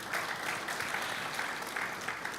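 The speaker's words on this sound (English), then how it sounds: "another round of applause for you" An audience applauds at a public talk, a steady, fairly faint patter of many hands clapping without voices.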